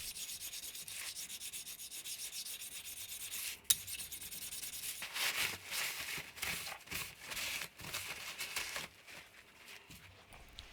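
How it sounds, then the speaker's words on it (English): A small stone rubs burrs off a metal lathe backplate in a close, dry scraping rasp, first a steady stroke, then a series of short, uneven back-and-forth rubs. "But before, I remove all the burrs with a small stone."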